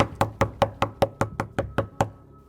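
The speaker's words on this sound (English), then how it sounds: "George awakes to a loud knocking at his front door." Ten loud, sharp knocks on a front door in a steady, evenly spaced rhythm, close and dry, ending with a short moment of quiet.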